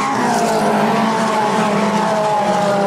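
Dirt modified race cars roaring off the fourth turn at Airborne Speedway in Plattsburgh, New York, a loud sustained blend of high-revving engines sweeping past without a break, no commentary audible.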